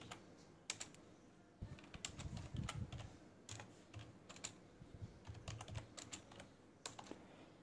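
Rapid, irregular clicking of keys on a computer keyboard as a short word is typed into a font tool, close and fairly quiet, in bursts with brief pauses and no speech.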